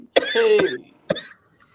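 A person coughs twice close up, a harsh drawn-out cough followed by a shorter one after a brief pause.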